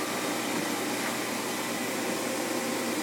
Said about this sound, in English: what I'm actually doing is sucking the refrigerant out here into the machine